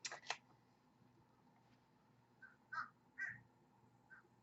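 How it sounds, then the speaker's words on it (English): Crows caw outdoors, several harsh calls spread across a few seconds at moderate distance, with a couple of sharp clicks at the start and a quiet background. "we got the crows cawing right now."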